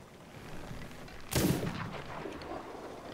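A ship's cannon fires once in the pirate video game Sea of Thieves, a sudden loud boom that rumbles away over faint background ambience.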